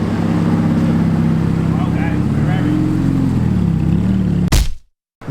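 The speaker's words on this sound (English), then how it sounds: "over there in the distance, we have got a Lamborghini Aventador SV as well, just parking up right now" A Lamborghini Aventador SV engine idles and burbles while parking, heard at a distance as a low steady drone with slight revs, under continuous talking, ending in a brief loud bump followed by near silence.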